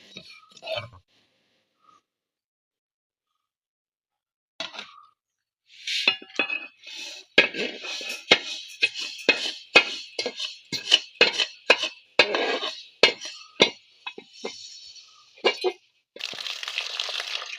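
Dry-roasted rice is scraped and tipped from a pan into another vessel, giving a busy run of sharp clinks, scrapes and crunchy rattles after a few quiet pauses, then a steady hiss at the end.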